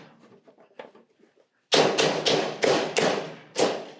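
Lumps of clay slammed onto a Vevor 14-inch electric pottery wheel, several heavy close thuds in quick succession after a few quieter taps and handling noises.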